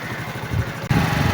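A motorcycle being ridden gives a steady mid-pitched engine drone with a brief dip and then a slightly heavier pull, close and continuous.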